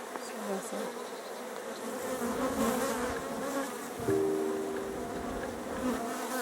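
Honeybees hum in a continuous, moderately loud buzz around an open beehive during an inspection, with faint handling noises underneath.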